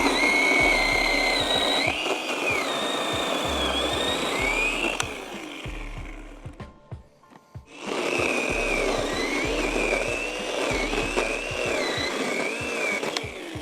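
A Stihl MS170 chainsaw revs hard and loud with a high wavering whine, drops briefly to a lull, then surges back up to full throttle; no talking.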